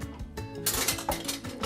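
A ladle clinks and scrapes against a pot while scooping warm pizza sauce, a few quick metallic knocks and rattles close by, brief and without speech.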